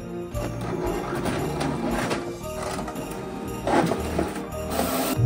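A home printer runs through the second side of double-sided zine pages, giving a loud, continuous mechanical whir with rhythmic clicks and feed noises that swell near the end.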